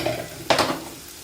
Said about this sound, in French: quand vous entendez que l'huile frémit, vous mettez vos épices